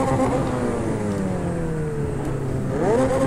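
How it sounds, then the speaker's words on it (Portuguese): McLaren 720S 2017 supercar engine in Project Cars 2 revving and pulling up through the range, pitch sliding down then climbing again near the end, loud and close with no talk. "Hoje eu vou com a McLaren 720S 2017"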